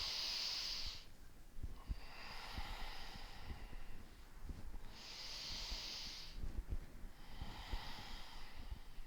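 Slow, deep breaths drawn into the side of the chest during a myofascial release session for the neck, shoulders and upper back, with a tennis ball pressed under the body; four long airy inhale and exhale cycles, close and soft, with faint low thumps underneath.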